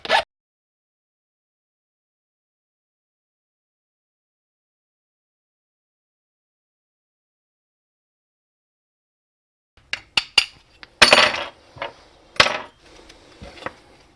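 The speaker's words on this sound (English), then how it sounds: "all we need to do now is just deburr the edges," A hand file deburring the cut edges of metal soft jaws for a vice: after a long silence, a few short, close rasping strokes and scrapes come in an uneven cluster near the end.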